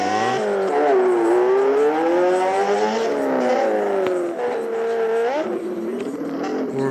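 A Yamaha XJ6 motorcycle engine is held high against the rev limiter through a wheelie turn, a loud, buzzing, wavering whine that sags and surges, then dips and snaps back up near the end.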